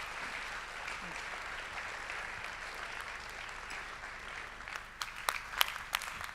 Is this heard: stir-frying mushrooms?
no